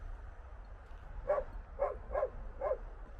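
Dogs barking outdoors at a quiet van camp site: four short yips in a loose rhythm, fairly faint and somewhat distant over low background rumble.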